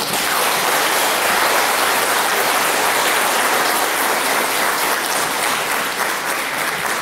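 Sustained, dense applause from an audience at a commemorative ceremony honouring a deputy director and director, steady and loud for the whole stretch with no voices above it.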